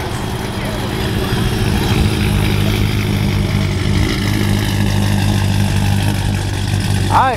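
Frostbite, a methanol-injected car without a winter cooler, sits on a dyno with its engine running at a steady, loud idle, a continuous low drone with harmonic hum throughout, a brief higher whine near the end.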